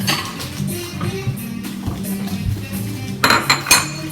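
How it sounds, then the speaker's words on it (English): A fork cutting and mashing food in a bowl, soft scraping and squishing followed by a few sharp clinks of metal against the bowl near the end, no talking. "we're gonna basically just like cut this up and mangle this thing into the bowl"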